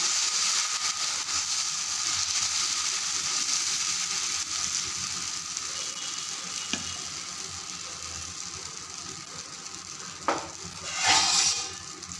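Sweet potato and green pea dosa batter fries on a hot pan with a steady, close sizzling hiss, broken near the end by a few sharp clicks and scrapes.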